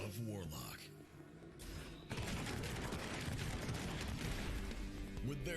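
Dense, loud gunfire bursts in the Of Warlock video game trailer, sustained and layered with booms and mechanical clatter, under music and effects, with a voice speaking over part of it.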